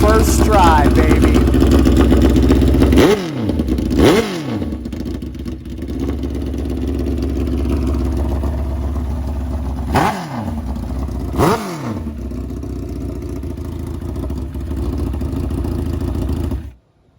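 A nitrous Suzuki GSX-R drag motorcycle engine runs loud and close with a steady rumbling idle, cut by four sharp throttle blips that rise and fall, before the engine shuts off abruptly at the end.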